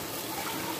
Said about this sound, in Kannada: ನೋಡಿ ಅಳತೆಗೆ ನೀರು ಹಾಕೊಳ್ತೀನಿ ನಾನು